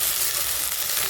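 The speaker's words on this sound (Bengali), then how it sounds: "পেঁয়াজ কুচিটাও সোনালি মতন ভাজা হয়ে গেলে এর উপরে দিয়ে দেবো কচুরলতিগুলো" Taro stolons frying in hot oil with onion, garlic and black cumin, giving a steady, dense sizzle that stays loud and close without a break.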